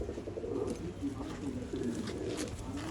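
Old-line pigeons kept for sale coo softly and steadily, low murmuring calls close by amid faint room noise, with no clear talk over them.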